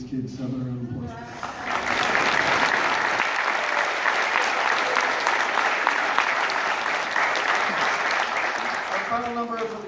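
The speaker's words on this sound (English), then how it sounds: "How about a round of applause?" Loud, sustained audience applause fills a high school auditorium after a regional symphonic band concert. It rises quickly after a brief spoken line and continues evenly for about eight seconds before voices return.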